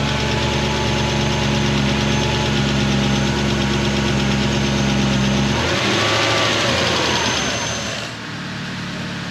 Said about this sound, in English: The engine is running quite well.